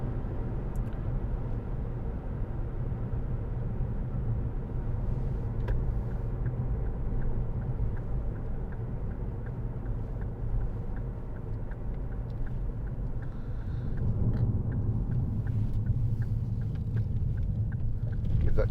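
A 2012 Ford Kuga 2.0 TDCi Titanium Powershift 4x4 diesel hums along a winding country lane, its low engine and road rumble steady inside the cabin, swelling slightly toward the end with faint ticking from within.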